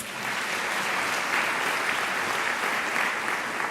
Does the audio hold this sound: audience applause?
yes